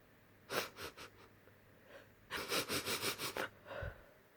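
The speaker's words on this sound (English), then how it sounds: "On the pavement stood a giraffe who was sniffing sadly" Soft, faint sniffing from a giraffe comes in two groups: a few snuffles, a pause, then a quicker run of sniffs and one last snort.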